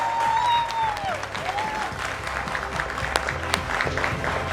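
Studio audience applause in a Hindi TV interview show as a film star is welcomed, a steady burst of clapping with some crowd noise, beginning as a brief chime fades.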